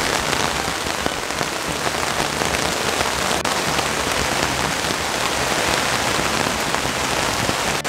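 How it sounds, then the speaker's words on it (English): Heavy monsoon rain pours steadily onto a campsite shelter as floodwater creeps in, a dense, unbroken hiss of drops drumming close on surfaces throughout, with no voices. "The rain has completely flooded our camp."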